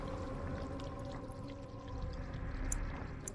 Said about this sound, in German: Den Krug mit Wasser füllen.